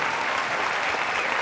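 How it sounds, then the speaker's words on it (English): Studio audience applause for contestants on a quiz show, a steady wash of clapping that stays even from start to finish with no talking. "Now, a round of applause for our four contestants so far."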